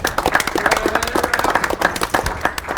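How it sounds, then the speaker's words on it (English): An audience at a poker tournament table at Ameristar East Chicago casino applauding steadily, a dense patter of claps holding at an even level throughout. "Let's give Vin in the 4 seat a round of applause"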